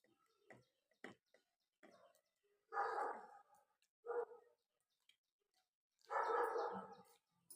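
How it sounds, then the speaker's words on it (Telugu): A dog barks in short separate bursts, some sharp and thin, others fuller and louder, with quiet gaps between them. It sounds fairly close in an otherwise hushed household setting. "వాటర్ వస్తుందని అంటే కుక్క అరుస్తుందని చెప్తున్నాడు."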